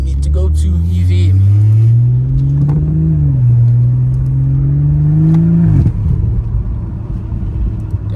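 A BMW 540i G30 exhaust drones loudly and steadily from inside the car, rising and falling as the engine revs through several seconds of driving.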